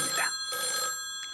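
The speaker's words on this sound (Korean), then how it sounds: "그리고 다음 날 리웨한테 한 통의 전화가 옵니다." A telephone bell rings in a short burst, two bright ringing pulses close and clear over faint background.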